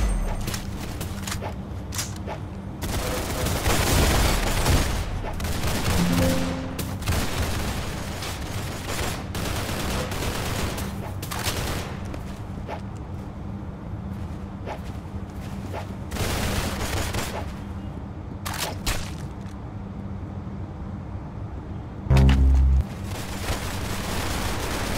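Gunfire from the Roblox game Arsenal, with shots popping in scattered bursts throughout, fairly steady in level with a louder thump near the end.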